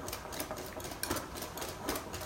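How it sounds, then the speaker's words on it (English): A whisk beats buttercream and chocolate together in a bowl for macarons, producing rapid, continuous scraping and clicking at close range, steady and fairly quiet with no talk. "we're gonna mix with a whisk the buttercream and the chocolate together"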